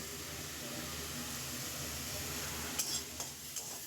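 A prawn curry base of onion, ginger and garlic paste frying in oil, giving a faint, even sizzle with a few soft clinks of a spoon toward the end.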